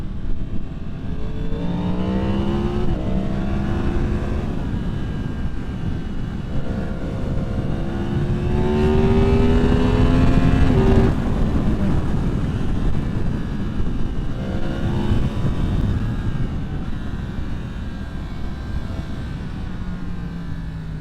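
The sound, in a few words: 2023 Yamaha MT-10 motorcycle engine under throttle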